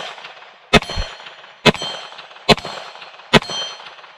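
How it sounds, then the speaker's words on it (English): Rifle bullets ringing off a steel gong target at a shooting range, fired from a Bear Creek Arsenal BC-102 Grizzly: four sharp metallic clangs spaced roughly a second apart, each with a short ringing tail, no talking. "Let's go back to the gong."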